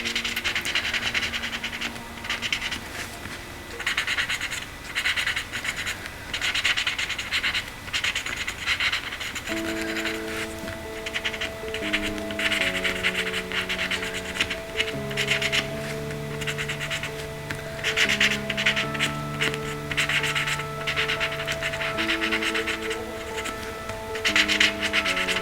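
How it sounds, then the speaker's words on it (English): A paper tortillon rubs and scratches across pencil shading on paper, a close, continuous soft scraping with short repeated strokes, while quiet background music plays underneath. "The tortillon just smooths everything out."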